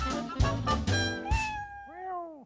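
A cat's meow closes a short TV show jingle: bright harmonic musical tones with a few punchy hits, then a rising and falling meow cry near the end, clear and close, with no talking.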